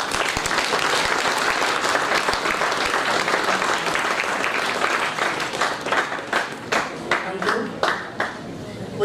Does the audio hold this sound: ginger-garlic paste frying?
no